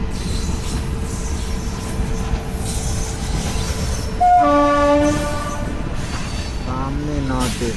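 A WAP-7 electric locomotive in North East livery hauls a train past as seen from a moving train in India, with a continuous close rumble, a loud sustained horn blast midway, and a second horn call near the end.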